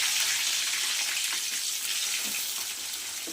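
Chopped onion and tomato frying in hot oil, a steady close hiss of sizzling throughout with faint scattered crackles, no voices.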